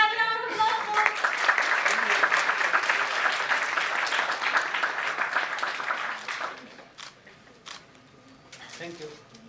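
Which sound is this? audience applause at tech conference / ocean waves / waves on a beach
audience applause at tech conference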